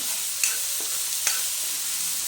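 Chopped vegetables sauté in a pan for a homemade vegetable soup, giving a soft, steady sizzle broken by two sharp clicks of a utensil against the pan.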